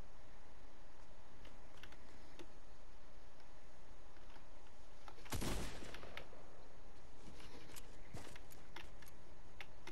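Gunfire in Fortnite. A sharp, loud burst of shots rings out midway through, with scattered quieter cracks and tapping before and after against low background noise.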